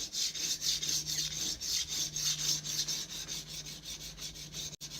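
A kitchen knife drawn across a coarse diamond sharpening stone: close, gritty scraping strokes repeating in a steady back-and-forth rhythm, each one rasping and even, with no talking over them.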